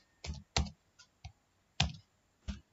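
Computer keyboard typing, six separate close clicks and key presses spaced irregularly with quiet gaps between them.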